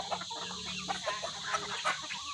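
Pet chickens clucking close by in a continuous busy chatter of short clucks over a steady background hiss, with no talking.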